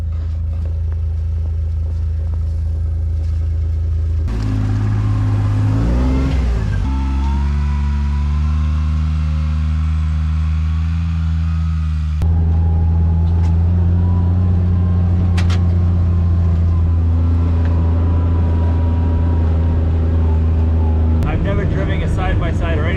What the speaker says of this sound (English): We were doing burnouts.